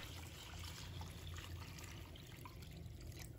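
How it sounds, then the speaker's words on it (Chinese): Clean water poured over duck meat to rinse it, making a quiet continuous trickle and splash close by, with no talk. "然后再倒入清水，"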